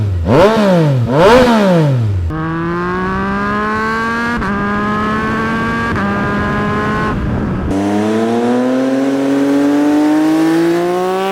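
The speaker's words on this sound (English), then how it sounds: "let's have a listen to the exhaust, both stock and with an aftermarket pipe" Yamaha MT-09 motorcycle engine, on stock exhaust and then an aftermarket Kelpie pipe, revs hard twice in loud rising-and-falling blips, then holds long steady high-rpm runs, close and loud with no talking.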